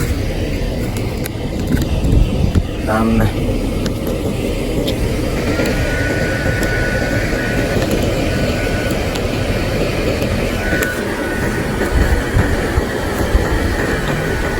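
Loud, constant rushing blower noise from an inflatable Christmas decoration inflating, a steady roaring air flow with faint rattles and no talking.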